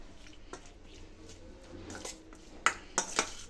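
Boiled diced potatoes being stirred in a pot for potato chutney, with soft scraping and a few sharp clinks of a spoon against the metal near the end, close and otherwise quiet.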